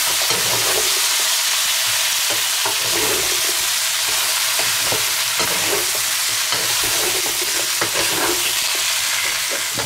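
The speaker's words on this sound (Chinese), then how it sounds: "再次给它翻炒均匀" Prawns and vegetables stir-fried in a wok, a continuous loud sizzle with the scraping and clatter of a spatula tossing the food throughout.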